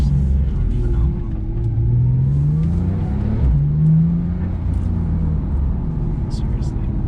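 A Porsche 911 Turbo S accelerates hard from inside the cabin, engine rumbling and rising in pitch with quick gear shifts that briefly dip the tone, while a voice talks throughout.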